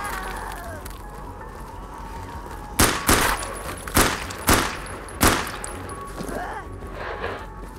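Video game gunfire from No More Room in Hell: about five sharp shots in an irregular burst over ambient game noise, with a faint voice in the background.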